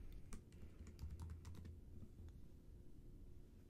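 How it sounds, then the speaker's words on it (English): Someone types on a computer keyboard, a quiet run of soft key clicks in an uneven rhythm that thins out and stops partway through. "For example, I may type AmJur"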